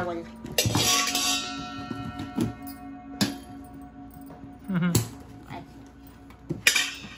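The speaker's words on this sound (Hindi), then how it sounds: "मस्त ये चम्मच मारूंगी स्टील का" A steel spoon striking brass and copper utensils in a wholesale market, several sharp metallic clinks and rings spread irregularly across the clip, close by, with someone talking between the strikes.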